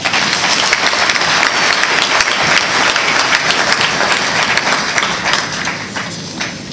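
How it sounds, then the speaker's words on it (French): A large audience at a staged trial event applauds steadily and loudly, dense clapping filling the space throughout before tapering slightly near the end. "je vous prie de les applaudir"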